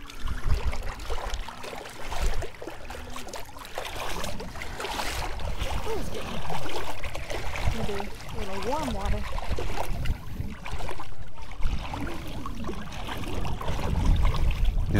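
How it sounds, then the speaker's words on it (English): Boats cruise in over shallow water near a sandbar in the Florida Keys, a steady motor and water wash mixed with wind buffeting the microphone while people talk over it. "those boats are just cruising in."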